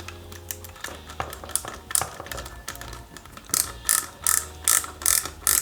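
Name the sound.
ratcheting screwdriver driving screws into model car interior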